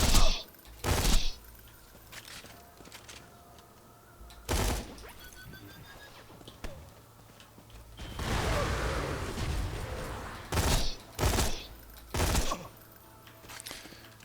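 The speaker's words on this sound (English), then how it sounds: "The Varrook does have a fast burst fire there." Vladof Varrook rifle from Borderlands 3 firing in fast bursts: several short, loud clusters of shots spaced a few seconds apart, with a longer stretch of rumbling explosions and debris between them, no talking.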